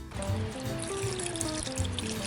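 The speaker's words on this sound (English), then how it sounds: "Let's make sure we water our new plants so they regrow." New plants being watered in a children's cartoon, a steady trickle and pour of water heard close, with music playing underneath.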